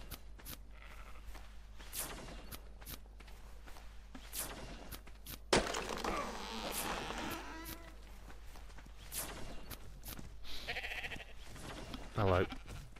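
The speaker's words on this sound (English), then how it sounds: "A sheep." A sheep bleats in the survival game Ark on the Valguero map, a short wavering call near the end standing out over steady game ambience, footstep-like clicks and a talking voice.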